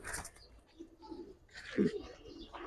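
Silver-pattern Giribaz high flyer pigeons, moulting, give a soft low coo amid faint rustling and scattered chirps, close and quiet.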